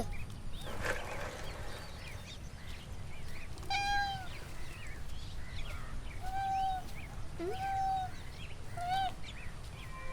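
Kittens give several thin, high meows that repeat at intervals over faint background hiss, fairly quiet and near, with no talking.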